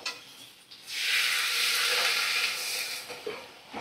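Water poured into a hot pan of ghugni with raw potato sets off a loud, steady sizzle and hiss that swells after a brief pause and holds for several seconds, with a couple of small knocks near the end.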